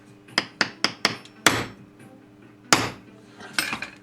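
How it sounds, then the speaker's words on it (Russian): A hammer taps while a jig for beehive frames is assembled: a quick run of four light strikes, then a few heavier isolated blows, close and sharp with quiet gaps between. "Молоточком."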